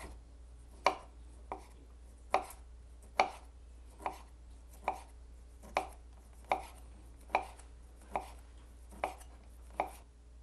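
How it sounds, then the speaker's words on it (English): A knife slices bacon very thin on a cutting board, giving about twelve crisp, evenly spaced chopping taps in a quiet kitchen, close and clear with no talking. "The bacon has to be cut very thin because it doesn't stay too long in the oven."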